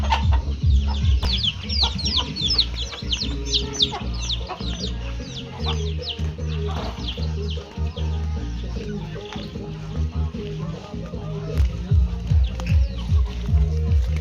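Chickens clucking steadily on a Thai farm garden, with several birds overlapping in a dense, continuous flock chatter at close range; ducks are also kept nearby.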